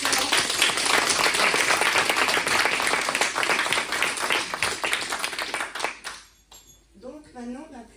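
Strong audience applause rings out for the choir directors at a concert, dense clapping for about six seconds before fading abruptly, with a voice starting to speak afterward.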